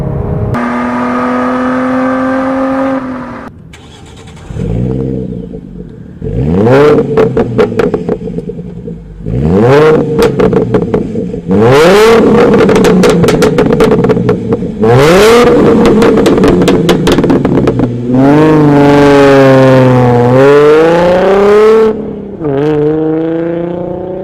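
A car fitted with a Borla exhaust revs hard and loud in a rapid series of sharp blips and longer climbing pulls, with brief idle gaps between bursts.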